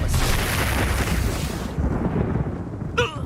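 Confringo spell explosions go off in the Hogwarts Legacy video game, a loud, sustained rumbling blast that tails off and is followed by a sharp burst near the end.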